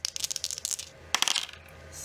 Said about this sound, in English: I'll roll 2 dice this time for this one